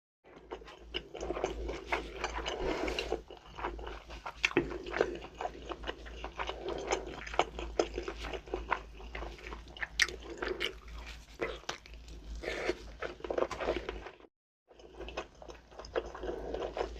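Close-up chewing and biting of whole Korean blood sausage (sundae), a 1 kg link, with soft wet mouth sounds and occasional crunches repeating steadily throughout.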